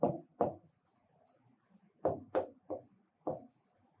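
A pen writes a Bengali sentence, making faint, close scratchy strokes in short bursts separated by brief pauses.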